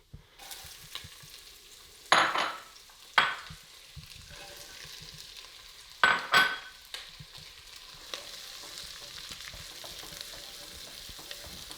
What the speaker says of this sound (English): after adding those veggies in and giving it a big stir